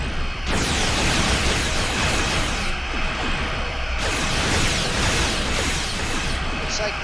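Starship weapons fire and explosions in the video game Star Trek Online, dense roaring bursts and blasts in loud continuous waves with sudden cut-offs, over faint voices.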